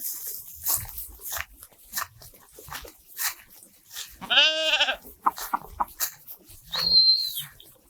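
Sheep bleat now and then over a quiet outdoor scene, one loud wavering bleat standing out near the middle, with occasional shuffling noises.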